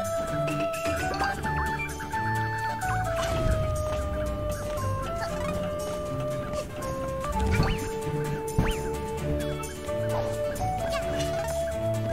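Bird clucking from the video game A Hat in Time, heard as a few scattered squawks mixed into a steady, loud layer of game music and effects.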